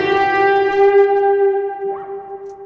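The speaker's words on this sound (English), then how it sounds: "emulates that real guitar whammy bar kind of feel" A sustained lead guitar note from FL Studio rings out steadily, then its pitch bends and wavers near the end like a whammy bar before fading.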